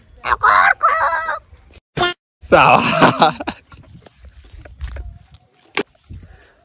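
A person loudly imitates a chicken call in a couple of strained bursts, close by, with short bits of talk around them.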